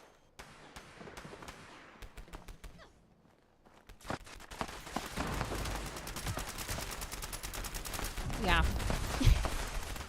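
A Radium Rifle fired in the game Fallout, a rapid string of sharp shots that thickens into dense fusillade-like bursts among other game noises, with someone speaking briefly.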